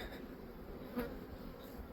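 Honey bees buzz around hives being split into minis, a faint, steady drone of many insects close by with no talk over it.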